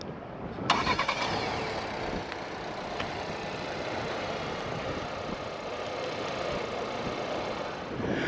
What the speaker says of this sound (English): double press the remote start button on the key fob.